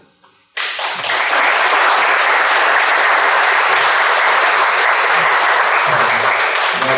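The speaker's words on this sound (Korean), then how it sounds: "앞으로 이제 저희가 모시면 박수로 좀 환영하도록 하겠습니다." After a brief quiet moment, loud sustained applause erupts from a church gathering welcoming a speaker, steady dense clapping filling the room for several seconds.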